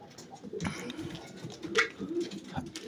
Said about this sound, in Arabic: فرد الحمام ده